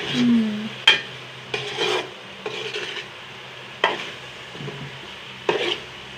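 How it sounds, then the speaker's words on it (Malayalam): Spoon scraping and stirring food in a pan during sautéing, giving repeated rasping strokes about every second with a soft low sizzle beneath, close and moderately loud, no talking. "വഴറ്റണം അങ്ങനെ വഴറ്റി വരണം"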